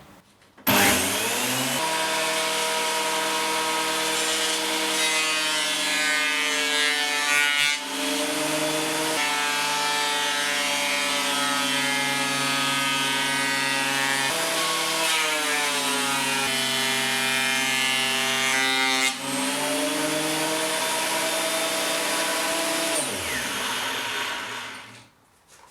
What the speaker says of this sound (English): with both blades sharpened and put back in the planer, it's time to put a piece of wood through it